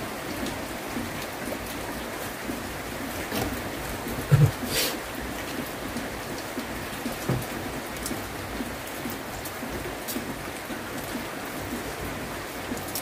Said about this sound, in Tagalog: Lakas ang ulan sa labas.